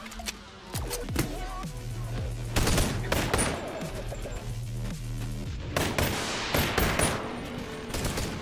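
Pistol shots ring out in the VR game Bonelab, sharp reports scattered in quick bursts with some rapid overlapping volleys, close and loud with echoing tails.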